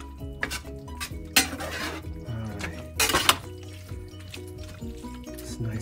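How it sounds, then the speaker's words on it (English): Spaghetti being mixed with sauce for baked spaghetti: wet, squelching stirring with several sharp utensil clinks and scrapes against the dish, close up and without talking. "We're going to mix that up really well."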